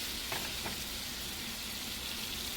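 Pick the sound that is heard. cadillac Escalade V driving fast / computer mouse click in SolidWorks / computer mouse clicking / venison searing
venison searing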